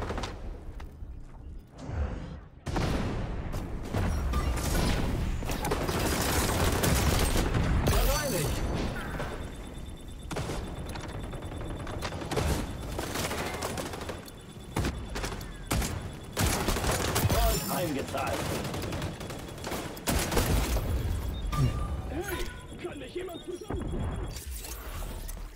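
Sniper rifle gunfire in the XDefiant shooter game, with repeated sharp shots and crashing impacts amid busy game action and effects, while a person talks over much of it.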